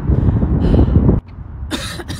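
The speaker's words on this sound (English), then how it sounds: "You say something? I coughed?" A single loud, harsh cough close to the microphone, followed after a short pause by a couple of breathy bursts and throat noises.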